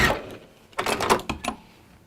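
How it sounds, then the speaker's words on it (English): A sewing machine stitching fabric runs in short, close mechanical bursts, a quick clattering rattle that starts and stops several times. "it really helps if your sewing machine doesn't spit its thread out and actually allows you to sew it"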